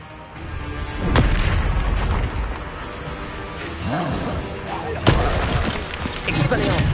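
Bombarda explosion spell in the Hogwarts Legacy video game: deep booming blasts and sharp bursts over a dense, rumbling combat soundscape.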